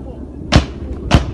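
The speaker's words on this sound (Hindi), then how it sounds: "इसमें गोलीबारी की आवाज साफ तौर पर सुनी जा सकती है।" Two sharp, distant gunshots crack about half a second apart in rough news footage of firing at a military tower near a camp, over a low background rumble.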